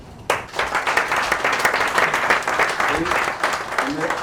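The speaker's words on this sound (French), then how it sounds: "Il faut l'applaudir." Sudden burst of applause and clapping from a crowd honouring an Ivory Coast national football team goal scorer, loud and close, with voices calling out over the sustained clapping.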